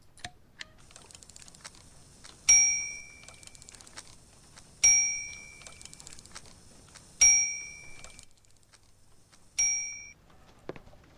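A reception bell dings four times at steady intervals in the video game Syberia, each bright ring decaying, between soft clicking and tapping sounds.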